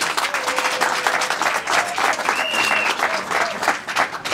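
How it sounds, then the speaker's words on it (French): Wedding guests at a civil marriage ceremony at a garden venue in Yaoundé applaud in a dense, steady crowd ovation that holds for several seconds, with faint voices mixed in. "Est-ce qu'on peut déjà applaudir pour Sorel?"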